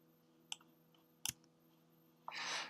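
Two sharp computer mouse clicks while the pencil tool is in use in a drawing program, set well apart over faint background hum, followed by a rush of broadband noise at the end.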